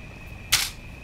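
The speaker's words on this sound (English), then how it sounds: "I just hit my hand on the desk because I didn't want to hit my keyboard or hurt my head or anything." A single sharp slap of a hand hitting a desk, one brief close thump with a bright crack, alone over quiet room hiss.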